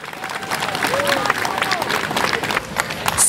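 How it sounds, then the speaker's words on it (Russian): An audience applauds at an ethnocultural festival in Kingisepp: loud, continuous clapping from a large crowd, with cheering voices and background chatter mixed in throughout. "Аплодисменты, друзья!"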